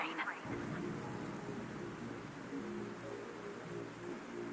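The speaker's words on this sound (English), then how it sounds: "Something's wrong with this rain." Steady video game rain in Wuthering Waves hisses evenly throughout, with a brief muffled voice-like sound at the very start before the downpour settles into a constant wash.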